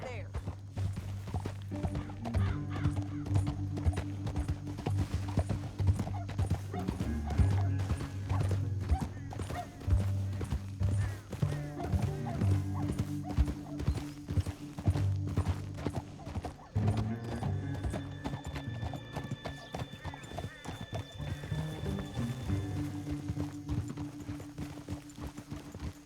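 Hooves clip-clop steadily at a quick rhythm with occasional horse snorts and a neigh, over background music and talking voices, in the game Red Dead Redemption 2.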